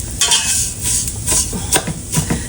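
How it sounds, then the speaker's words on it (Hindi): Vermicelli (sevaiyan) roasting in a pan with cardamom seeds, giving soft stirring scrapes and light clinks of a utensil against the pan, with faint sizzling in short bursts throughout. "अब ये सेवइयों को इसमें भूनते हैं"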